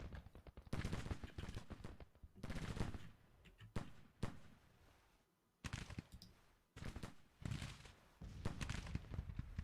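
Musket volleys crack out in clustered bursts in the Civil War strategy game Grand Tactician, loud rolling gunfire with short lulls between rounds.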